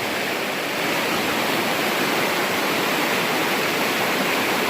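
A mountain river in Smokemont, Great Smoky Mountains, rushes close by in a loud, even, unbroken hiss of flowing water.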